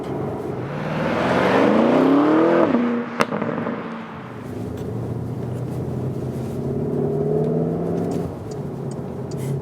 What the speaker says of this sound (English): now to some city driving, here with the Cayenne GTS